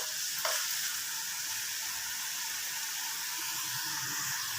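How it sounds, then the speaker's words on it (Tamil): Steady sizzling of chopped onion and snake gourd frying in a hot pan, a continuous hiss with an occasional brief clink of stirring. "வெங்காயத்தை நறுக்கி புடலங்காயை நறுக்கி வதக்குங்க."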